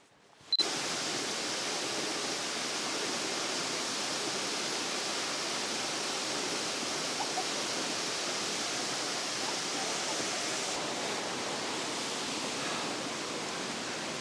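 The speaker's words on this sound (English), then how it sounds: "The waterfall behind me" A waterfall in Olympic National Park rushes as a steady, even hiss of falling water that starts abruptly after a brief quiet and holds at a constant, moderate level throughout.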